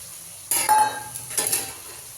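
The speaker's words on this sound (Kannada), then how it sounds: "ಇವಾಗ ಈ ಥರ ಫ್ರೈ ಮಾಡ್ತಾಯಿದ್ದೀನಿ ಫ್ರೆಂಡ್ಸ್ ನಾನು" Boiled black-eyed peas (karamani) tossed into a frying pan make two short bursts of sizzling and clattering as they are stirred, close and fairly loud.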